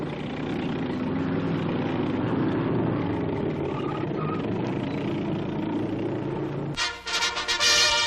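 Military tracked vehicle engine rumbling steadily at close range as it drives through snow, swamp and waterways, a continuous low drone with a brief harsher mechanical burst near the end.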